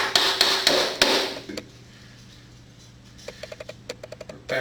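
A wooden mallet strikes a chisel while a bevelled edge is pared on a Roubo workbench undercarriage; a few sharp, loud blows come first, then a run of quicker, lighter taps after a short pause.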